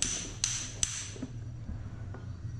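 A hammer is set down and struck among hand tools, pliers, long-nose pliers and cutters, giving a few sharp, separate knocks over a low background hum, with no talk.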